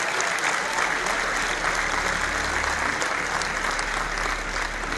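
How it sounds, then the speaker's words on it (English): A large audience at a business and community event in Singapore claps steadily and loudly for the signing of memoranda of understanding. The dense applause holds throughout. "A big round of applause for all our memorandum of understanding"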